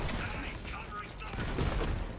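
Gunfire from a weapon in Borderlands 3, a busy, dense wash of shots and impacts that keeps going without a break, with talking mixed in underneath.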